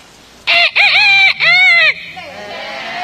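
A human voice imitates a bantam rooster's crow: three loud, high, strained calls in quick succession, close and clear, followed by quiet room noise.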